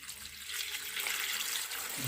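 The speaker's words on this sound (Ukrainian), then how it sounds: "Заливаємо водою." Water poured over onion skins in a pot, a steady close splashing rush of liquid throughout, with no talk.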